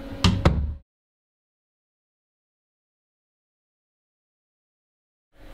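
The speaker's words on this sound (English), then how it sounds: "Let me just close the door" An office door swings shut with a couple of sharp knocks and a solid thud, followed by near-total silence in the room.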